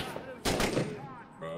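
Gunfire in a police roleplay video game: a burst of loud, dense shots lasting about half a second, then quieter scattered reports, with a further sustained burst at the end and voices talking faintly underneath.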